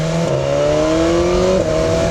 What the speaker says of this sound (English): That quick shifter is beautiful, so silky smooth.